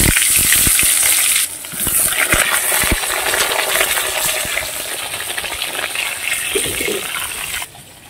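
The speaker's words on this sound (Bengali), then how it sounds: "এই পটলটা এখন একটু ভেজে নিচ্ছি।" Pointed gourd (potol) frying in hot oil in a wok, a steady loud sizzle with scattered sharp clicks and clatters of stirring, the hiss easing briefly partway through and dropping again near the end.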